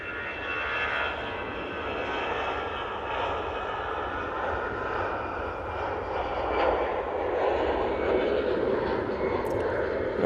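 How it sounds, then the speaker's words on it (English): An EasyJet Airbus A319 jet departs Manchester Airport, a broad steady engine roar held at moderate distance throughout, with a faint voice underneath. "There goes the Easyjet A319."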